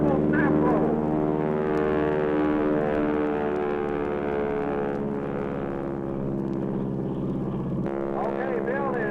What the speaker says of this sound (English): Okay, Bill is climbing up for altitude now.